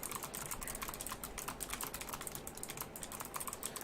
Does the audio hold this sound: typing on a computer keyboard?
yes